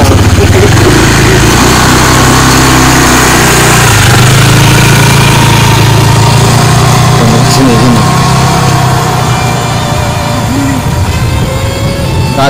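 A motorcycle engine runs steadily at close range, a loud, continuous idling rumble with a constant vibrating drone that barely changes throughout.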